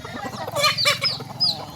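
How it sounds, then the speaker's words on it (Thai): Native-breed Thai chickens cluck and chatter nearby in a farmyard, several overlapping calls with a high rising squawk among them. "นี่ไก่ลาดสดพันธุ์พื้นเมือง"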